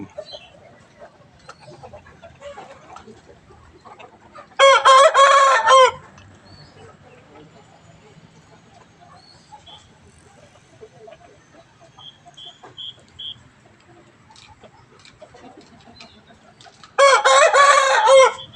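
Two loud crows from fighting roosters ring out, one early and one near the end, over a quiet farmyard backdrop with faint clucking and distant bird calls.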